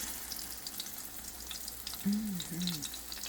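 Food frying in corn oil in a pan, giving a soft, steady sizzle and crackle throughout, with someone talking briefly over it.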